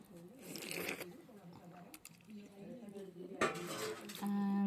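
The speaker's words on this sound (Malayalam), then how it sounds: "പിന്നെ തിരിച്ച് വന്ന് പാത്രങ്ങളെല്ലാം കഴുകി." Dishes, pots and pans clink and clatter during washing: scattered metallic knocks and scrapes, fairly quiet, while a person talks over them.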